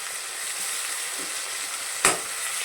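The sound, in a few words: brinjal masala frying in a pan with coriander and mint leaves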